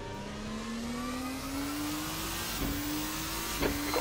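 RSS 2 V6 Hybrid race car engine in Assetto Corsa on cold tyres, a steady mid-pitched drone rising gradually in pitch as it accelerates, with a faint electric whir and small bumps near the end.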